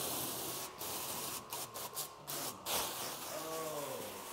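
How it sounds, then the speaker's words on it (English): Spray bottle misting water onto a Cybertruck door panel before a paint protection film install, a series of short hissing squirts in quick succession, fairly close and moderately loud. "I'm gonna spray the panel and the ones adjacent to it so we can get a squeegee"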